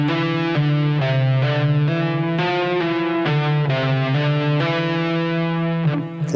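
A rock electric guitar lick played with two-handed tapping on a single string, fast hammered and tapped notes in repeating groups of seven and six, distorted and sustained, loud and close with no talking.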